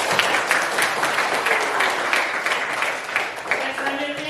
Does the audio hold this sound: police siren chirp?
no